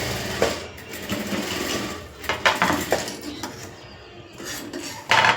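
Sewing machine running a rough stitch along a saree hem edge, in a few short bursts of rattling stitching close by with brief pauses between, with no talk.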